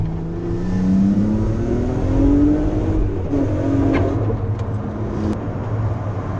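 A BMW E30 engine revs hard as the car accelerates, a loud, continuous growl whose pitch climbs, drops back briefly, then climbs again, heard from inside the car with no talking.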